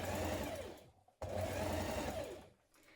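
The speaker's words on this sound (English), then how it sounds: "and then I'm going to stitch that in place." Sewing machine stitching a children's dress, a steady close whirring run that pauses briefly and restarts, then slows near the end.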